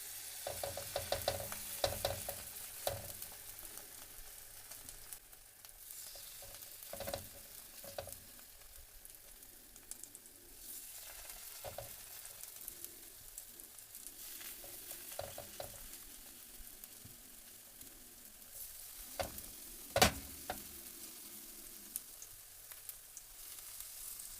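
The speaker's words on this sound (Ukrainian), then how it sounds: "і смажимо до утворення рум'яної кірочки." Steady crackling sizzle of zucchini fritters frying in oil in a pan, with occasional louder pops and scrapes, continuous throughout and no talking.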